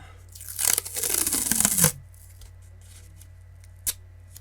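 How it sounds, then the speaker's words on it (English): Sticky tape pulled off a roll during a guitar build: a long ripping stretch of about a second and a half that rises in pitch as it goes, cut off by a tear, then near silence with one short click. "A little bit of sticky tape going on."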